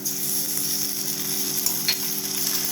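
Onions and ginger garlic paste sautéing in a pan for a coconut milk prawn fry, a steady close sizzle and crackle with occasional stirring scrapes and no voices.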